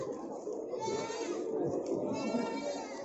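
A young goat, a four-month-old female kid, bleats at a livestock market. The quavering cries rise and fall over busy crowd murmur and nearby voices.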